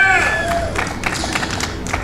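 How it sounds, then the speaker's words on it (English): A crowd at an Erie, Pennsylvania victory rally breaks into clapping and cheering, a loud, dense burst of claps and shouts that follows a voice heard at the start. "We gotta have a cheer for a valid concealed carry permit in Illinois."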